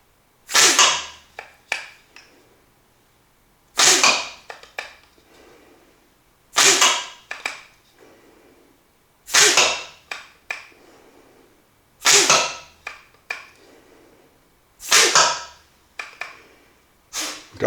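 Needle darts fire from a Dart Hiker revolver-style blowgun, six sharp puffed shots spaced a few seconds apart, each a crisp burst of breath followed by a short impact tick, close and loud with no talk.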